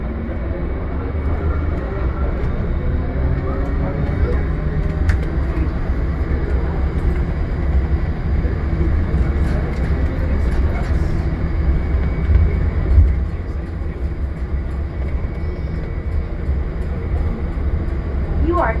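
Automated airport terminal shuttle train running toward Terminal B, a steady loud rumble and rail hum throughout, with an automated announcement voice partly heard over it.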